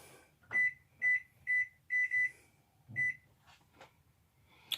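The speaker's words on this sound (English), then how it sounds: "I'm going to put my timer on." A kitchen timer is set while bread bakes in the oven, giving a run of short, bright electronic beeps in an uneven rhythm over faint room hum.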